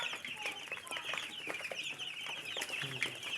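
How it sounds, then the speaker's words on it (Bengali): Broiler chicks on a poultry farm, a busy overlapping chorus of soft clucks and cheeps, close by and steady throughout, with no talking. "এই যে ব্রয়লার মুরগির বাচ্চা দেখুন, আমার ব্রয়লার মুরগির বাচ্চা"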